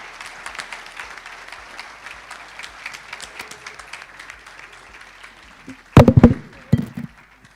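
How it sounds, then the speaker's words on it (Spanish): A crowd at a real estate developers' expo workshop applauds steadily with a dense patter of clapping, then a few loud thumps and knocks sound close by near the end. "Un aplauso enorme para Damián."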